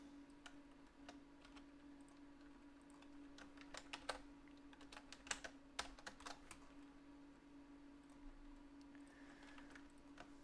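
Quiet typing on a computer keyboard, irregular soft clicks in short flurries with pauses between them, faint against a steady low hum, with no talk.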